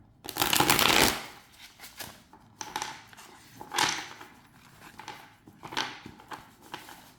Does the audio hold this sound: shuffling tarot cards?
yes